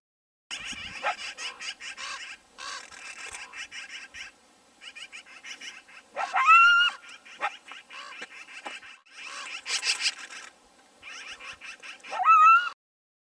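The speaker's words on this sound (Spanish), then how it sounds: "Coyote." A coyote yips and whines in rising, wavering calls that come in bunches separated by short pauses, clear and fairly close.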